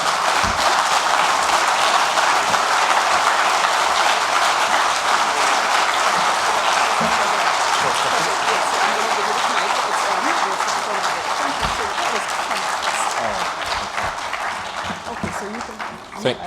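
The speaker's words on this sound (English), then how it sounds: "I think we need to give another round of applause" A lecture audience applauds in a dense, sustained roar of clapping that holds for the whole stretch and thins slightly near the end, with faint talk underneath.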